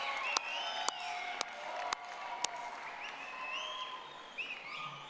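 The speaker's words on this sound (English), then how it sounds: "Everyone, please join me in congratulating the graduates with your applause." Applause congratulating graduates at a college fall commencement, a broad, distant crowd clapping in a large hall, with a few louder individual claps and some tonal background sounds mixed in.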